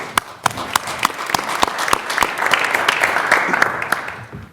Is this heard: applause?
yes